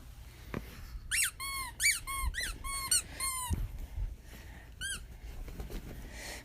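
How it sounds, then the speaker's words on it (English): A dog plays with a squeaky toy, producing a quick series of high, sharp squeaks in bursts, then a lone squeak after a pause, with soft thumps and shuffling nearby. "Her dog Mandy plays a fun game of hide and go seek with her squeaky toy"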